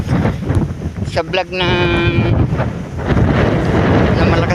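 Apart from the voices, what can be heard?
strong wind on mountain hitting microphone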